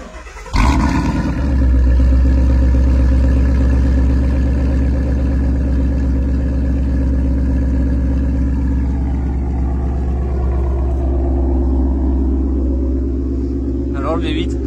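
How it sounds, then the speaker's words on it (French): A Ford Mustang GT 5.0 V8 cranks and fires, then settles into a deep, steady, loud idle rumble close by, with a brief rev blip near the end. "Alors le V8 a démarré"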